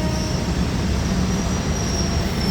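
An express diesel railcar pulls into Krung Thep Aphiwat Central Station in Bangkok with a loud, close, steady rumble of wheels on rail and a faint high squeal riding over it.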